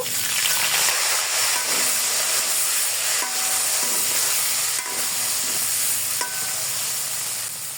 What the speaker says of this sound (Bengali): এখন বরবটিগুলো ভেজে নিব।